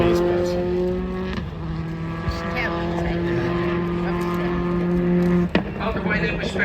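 A rally car on a winter stage at Brands Hatch drives onto the start-finish straight, its engine droning steadily close by with a sharp gear change near the end, while people talk over it.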